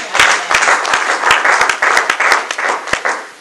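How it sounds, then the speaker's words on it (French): A church congregation breaks into loud, dense applause during a French-language service. Many hands clap close by with sharp individual claps standing out, and no speech is heard. "Acclamons très fort le Seigneur."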